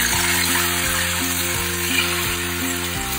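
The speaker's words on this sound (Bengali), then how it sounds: "পেঁয়াজ বাটাটাকে এবার একটু ভালো করে কষাবো।" Onion paste sizzles loudly in hot oil with nigella seeds, cooking for hilsa with pineapple. The frying is steady and close, with regular stirring strokes and no voices.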